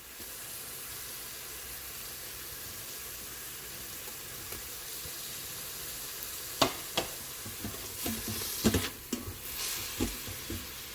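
Onions sizzle steadily in an Instant Pot while jackfruit biryani is made. Partway through, a spoon starts stirring and scraping, adding irregular clatters over the frying.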